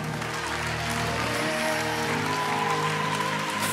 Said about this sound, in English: Give the Lord a clap like he's moving.